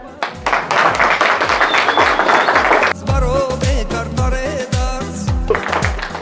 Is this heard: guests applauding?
yes